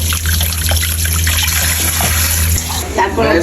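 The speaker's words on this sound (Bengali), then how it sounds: "এখন আমরা চিকেনটাকে ভালো করে দিয়ে নিতেছি, দিয়ে ভালো করে চিকেনটাকে পরিষ্কার করে নেব" Raw chicken being rinsed clean under a running tap in a kitchen, a steady trickle and splash of water held at close range for the whole stretch, with a constant low hum beneath it and no speech.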